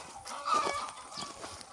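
Laying hens murmur and cluck together in a battery-cage laying house in Côte d'Ivoire holding 2,000 birds, a soft, continuous, crowded chatter with a few sharper clucks rising above it.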